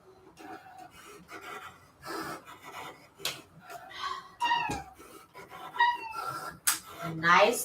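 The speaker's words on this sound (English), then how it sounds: "Don't mind my cat, sorry." A pet cat meows several times close by in a quiet indoor crafting room. The cries are short, rising and falling, and the loudest comes at the end, over faint room noise and soft handling sounds.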